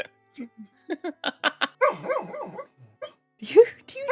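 A sleeping dog lets out a string of soft, muffled woofs, yips and whimpers in short bursts, close and fairly quiet, with a person talking briefly near the end.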